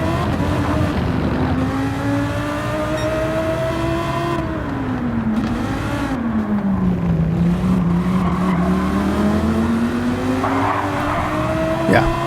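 Race cars bunched together around a corner at Interlagos in a video game, engines wailing and rising and falling while tires squeal and skid, loud and continuous throughout.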